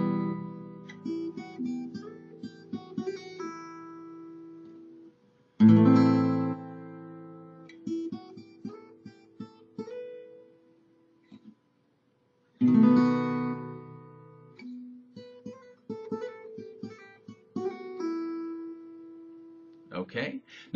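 An acoustic guitar plays a simple Spanish-style song using hammer-ons and pull-offs, in three phrases of plucked melodic notes over bass, with brief pauses between them and a clear, close sound.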